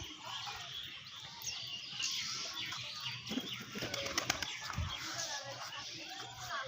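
Pigeons kept for sport flying give soft coos and bursts of wing flapping nearby, heard under a person talking.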